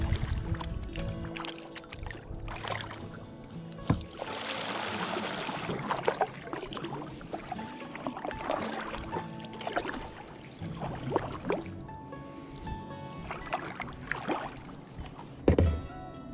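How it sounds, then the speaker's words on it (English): Kayak paddle dipping into the Suwannee River on a quiet foggy morning, with soft irregular splashes and drips close by against a calm, low background. "The paddle dipping into the water."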